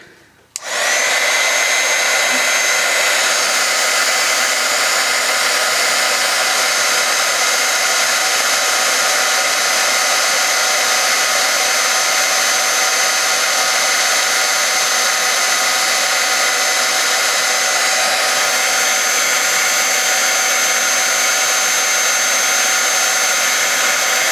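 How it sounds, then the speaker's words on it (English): A heat gun blows continuously on PolyShrink plastic, a loud steady whooshing hiss with a high whine that starts abruptly and holds unchanged throughout, close up with no talking. "once your heat gun heats up, this is gonna go much faster"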